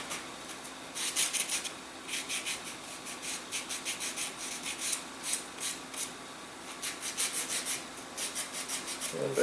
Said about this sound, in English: go around here and actually bevel off the base of the nose cone a little bit